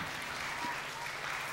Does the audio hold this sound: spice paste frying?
no